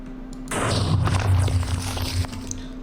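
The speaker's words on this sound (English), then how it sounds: "there's like a really loud explosion that's higher than expected" A custom explosion from a Minecraft MCreator mod goes off with a sudden loud blast, then a heavy rumbling roar that stays strong for about two seconds before easing slightly.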